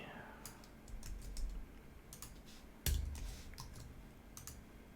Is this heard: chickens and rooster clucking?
no